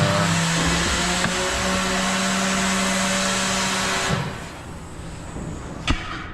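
A 2011 Volkswagen GTI engine idles with a misfire, a steady loud mechanical drone with a slightly uneven hum that drops in level near the end before a sharp click.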